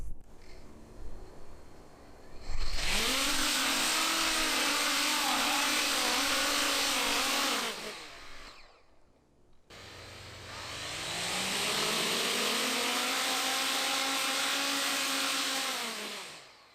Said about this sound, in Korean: 방금 이륙하려고 스로틀을 최대로 올려서 모터가 꽤 뜨거울 것 같습니다